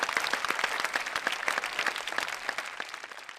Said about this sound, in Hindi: हम इनके लिए तालियां बजाते हैं